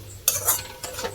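Pointed gourd paste is stirred and fried in a pan, with two bursts of scraping spoon strokes and a soft sizzle underneath, close and moderately loud.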